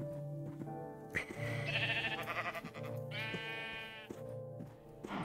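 Blocky Minecraft sheep give a series of wavering bleats over a steady backdrop of game ambience and soft thumps, clear and close, with several calls overlapping across the stretch.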